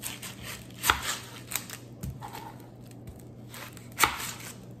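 A handful of sharp knife chops on red onion at a kitchen cutting board, spaced irregularly, close and fairly quiet, with no talking.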